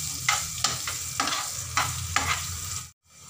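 Green chillies with asafoetida and fennel seeds frying in a pan, a close steady sizzle broken by several rhythmic stirring scrapes, then cutting off abruptly near the end; no talking.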